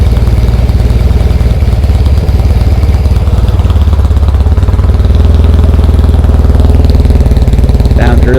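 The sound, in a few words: vintage motorcycle engine idling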